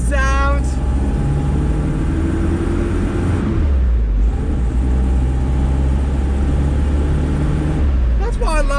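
Toyota Hilux cruising at about 70, a steady low engine and road drone filling the cabin, with someone talking over it at the start and end.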